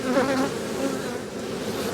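Honey bees buzz steadily around an open hive in an Australian bee yard, a dense, continuous hum close to the listener with no voices.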